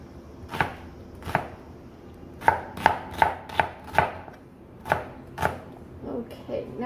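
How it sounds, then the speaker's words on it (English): Knife chopping onion and ham on a cutting board, about ten distinct thuds, some spaced and some in a quicker run, close up with no talking. "we're going to chop up our onion and ham"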